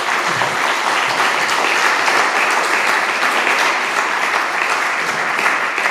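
Sustained, even applause from a conference audience after a talk on God and science, loud and dense throughout with no speech over it.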